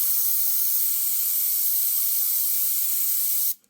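An airbrush sprays paint with a steady, close, bright hiss for about three and a half seconds, then cuts off abruptly into near silence.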